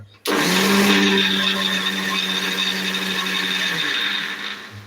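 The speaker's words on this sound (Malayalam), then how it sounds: "ഇനി നമുക്കിതാ ഇത് നമുക്ക് മിക്സിയിലേക്ക് വെച്ച് അരച്ചെടുക്കാം" A mixer grinder blending a yogurt mixture whirs loudly and steadily for several seconds, a high motor whine that starts suddenly and winds down at the end.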